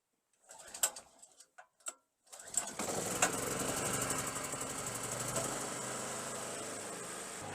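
A generator engine cranks with a few short bursts, then catches and settles into a steady, loud running drone that continues to the end.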